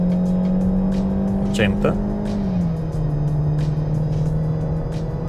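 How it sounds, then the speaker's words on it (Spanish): A Kia Sportage in sport mode accelerates at full throttle, its engine giving a loud, steady drone that dips slightly in pitch partway through, with someone talking over it. "Vamos a fondo, 2000. Una vez se revoluciona, pues ahí ya el carro se siente con más fuerza."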